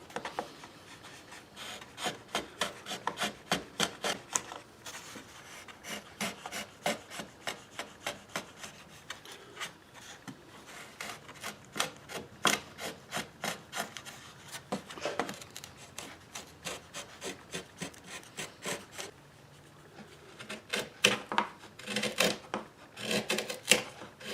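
Rhythmic rasping strokes as wooden braces on a steel string guitar soundboard are shaped by hand, a long run of quiet, close back-and-forth filing with brief pauses.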